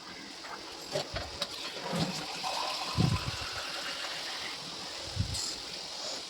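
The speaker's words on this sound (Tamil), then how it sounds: "தண்ணி ஊற்றிட்டேன்" Water splashes and gushes into a pot for biryani in a few bursts over a faint background hiss.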